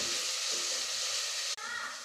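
Onions fry in a pan for boti curry, giving a steady close sizzling hiss with a brief break near the end.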